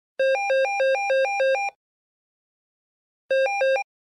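A synthetic telephone ringtone from the video game The Sims 4 sounds in two bursts of rapid alternating tones, loud and clean, with a pause of silence between them.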